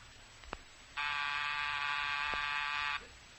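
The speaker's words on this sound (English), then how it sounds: "Rochester, was that the front door buzzer?" A flat electric front door buzzer sounds once for about two seconds, steady and fairly clear, against quiet room noise.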